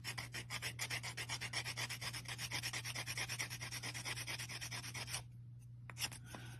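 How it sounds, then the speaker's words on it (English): A polymer clay millefiori pin being sanded around its edge: quick, even rubbing strokes close up in a steady rhythm that stops near the end, leaving a quiet hum. "This guy is just going to get sanded all the way around."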